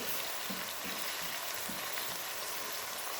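Onion, mint and coriander stirred together in a hot frying pot for mutton biryani, a dense steady sizzle close up, with a few faint stirring knocks and no talk.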